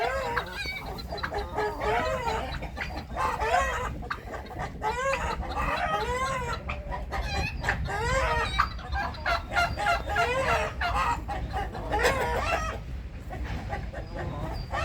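A flock of turkeys, hens gathered with a tom, squabbles in a farmyard: a dense, continuous chorus of overlapping gobbles, yelps and chattering calls, close and steady throughout.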